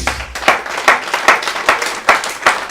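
A church congregation claps together in a steady rhythmic beat, about two to three claps per second, with sharp, evenly spaced hand claps and no talking.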